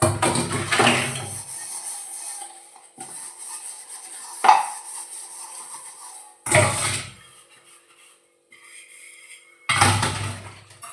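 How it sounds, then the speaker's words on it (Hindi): Dishes being washed by hand in a home kitchen sink after a meal: intermittent clinks and clatters of plates and utensils, with a few louder bursts of running water or rinsing between quieter handling, close by and without talk. "तो इसमें बर्तन पड़े हैं मेरे सिंक में, मैंने खाना खाया था, बस मेरे खाने के ही बर्तन हैं, तो उनको भी मैं अभी मांज देती हूँ"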